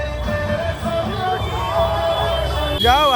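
Crowd of people milling around a village bus stop, a steady murmur of many overlapping voices with busy background hubbub, close and moderately loud.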